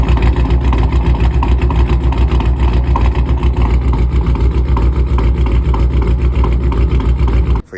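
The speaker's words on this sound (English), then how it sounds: "it'll idle and it'll do like a thump noise" A supercharged car engine idles steadily up close, its low rumble broken by a regular pulsing thump that repeats throughout before cutting off at the end.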